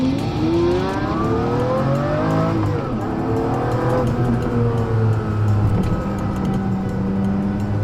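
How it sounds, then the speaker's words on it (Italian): A Pagani Zonda's V12 engine accelerates hard, loud and close, its pitch sweeping upward through repeated gear climbs, with a faint tyre squeal over a steady roar for the whole stretch. "acceleri e lei ha un canto, ha un suono che ti coinvolge"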